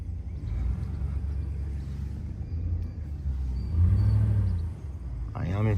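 Pickup truck in four-wheel drive backs a horse trailer toward a gate, its engine a steady low rumble that swells briefly as it revs, with someone talking over it.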